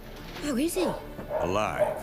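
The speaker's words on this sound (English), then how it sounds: "I also just want to apologize if you guys can hear the dogs in the background" Dogs bark and whimper in the background behind a voice talking over game audio, a few short yelping calls rising and falling.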